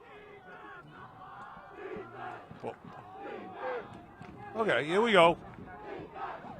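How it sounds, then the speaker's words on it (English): Revere high school football fans cheering for their defense during a game against Gloucester, a crowd roar swelling briefly to a loud burst under a commentator's voice. "We got a hepped-up Revere squad cheering for their defense."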